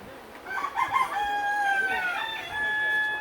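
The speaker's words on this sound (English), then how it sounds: "I'm telling you, these roosters are going freaking nuts." A rooster crows once, a long, strained call rising and trailing off, heard at moderate distance over quiet background.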